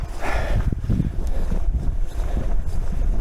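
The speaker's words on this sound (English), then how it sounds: "On this part, the wind is always blowing easterly and westerly." Strong wind gusts roar and buffet the microphone beside a massive snowbank along a road, a loud, continuous rushing blast that rises and falls with no other sounds.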